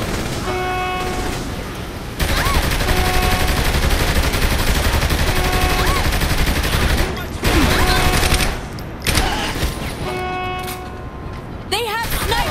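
Sniper gunfire rattles in Saints Row 3 as a continuous loud fusillade of shots, with horn-like tones and other game sounds layered in and voices talking over the action.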